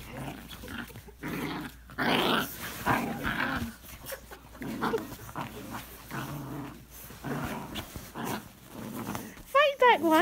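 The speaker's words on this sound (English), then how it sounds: "Who's growling?" Dogs growl and snarl through a play fight, a close, rough, continuous rumble broken by brief barks and yips, with a person talking and urging them on over the noise.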